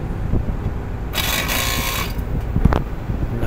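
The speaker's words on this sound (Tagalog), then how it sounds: "Naku, ang ingay ng compressor." A Fuji Electric air-conditioner compressor runs roughly with a mechanical fault, giving a harsh, steady grinding rattle with a burst of louder hissing buzz in the middle and a few sharp knocks near the end.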